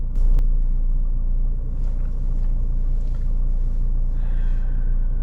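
A 2018 Nissan car engine idles steadily, a low continuous rumble close by with no speech over it.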